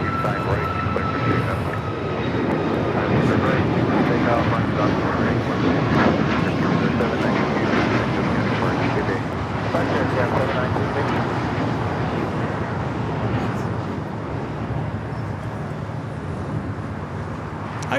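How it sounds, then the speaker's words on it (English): A Spirit airliner roars down runway 25 right at LAX on takeoff, a broad, steady, loud engine rush that swells and then slowly fades, with people talking faintly underneath. "runway 25 right, clear for takeoff."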